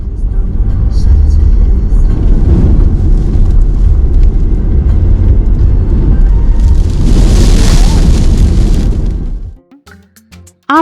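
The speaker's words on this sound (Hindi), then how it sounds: "आपने सुनी रेत गाड़ी से टकराने की तेज आवाज?" On a high-altitude Ladakh road between Hanle and Tso Moriri, storm-blown sand pelts a car with a loud, dense roar and rattling, sustained for about nine seconds before dropping away to quieter interior sounds.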